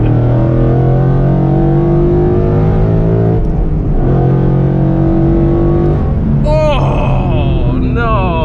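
A Ford Mustang 5.0 S197 with a manual gearbox, heard from inside the cabin, holds a loud V8 drone, then dips as the driver shifts and blips the throttle to rev-match, and the revs climb again.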